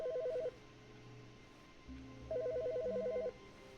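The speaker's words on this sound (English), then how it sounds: "What phone is it?" Telephone rings in The Stanley Parable, two bursts of a loud electronic trilling ring separated by a pause, over a low steady game ambience.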